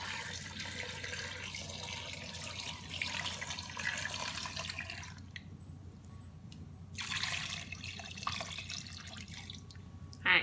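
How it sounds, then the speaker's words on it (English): Tap water runs into a pot in a home kitchen, a fairly quiet, steady splashing stream that stops briefly partway through and then resumes, ending with a small clunk. "now we're just gonna fill this up a bit with water"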